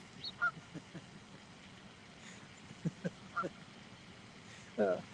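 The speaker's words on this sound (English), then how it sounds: "some kind of Arctic goose" An Arctic goose honks faintly in the distance outdoors near water after the ice melts, a few scattered short calls over a low steady background.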